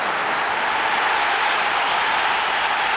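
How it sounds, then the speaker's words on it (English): A large football stadium crowd at a Celtic versus Porto Champions League match roars in a steady, broad wash of cheering as a player gets the ball, loud and continuous without a break. "Listen to the crowd in the background every time this man picks the ball up"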